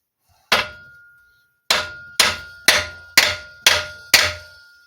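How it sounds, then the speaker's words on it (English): A hammer taps on a Tecumseh TVS90 engine from a 1984 Toro mower: one sharp metallic strike, a pause, then five more at an even pace, each ringing briefly. The taps are close and loud, with no talking. "Let's see what happens if I just kind of tap on it with a hammer."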